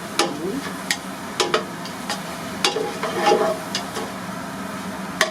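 Leeks and shallot fry in butter in a pan with a soft, steady sizzle, broken by sharp clicks and taps of a utensil stirring, close and without talk.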